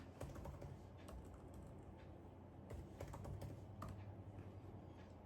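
Someone types the ipconfig command on a computer keyboard at a domain controller machine, producing faint, irregular clusters of keystroke clicks in a quiet room with no speech.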